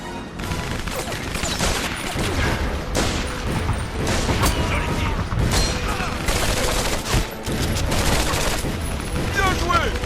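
Sustained machine gun fire from a nest on a bridge in the Medal of Honor: Avant Garde shooter, dense bursts of gunfire and explosions filling the scene while soldiers shout under the din.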